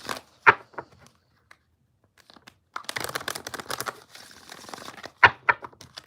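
Tarot cards being shuffled by hand: sharp riffling bursts and soft papery crinkles, with a dense stretch of rapid card-flicking in the middle and a couple of crisp snaps near the end, close and fairly quiet.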